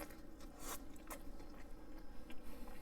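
Someone bites into and chews a half-pound oven-cooked chuck burger seasoned with cayenne, giving a few soft crunchy bites and moist chewing up close over a low background hiss.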